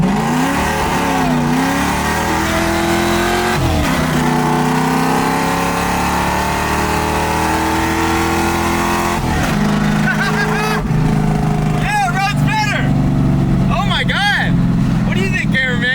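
A supercharged 1965 Ford Mustang with a stock 302 V8 drives and revs, its engine note rising and falling loudly and close throughout, with repeated acceleration sweeps and a voice talking over it.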